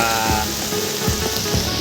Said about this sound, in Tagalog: Nabutan na po kami ng ulan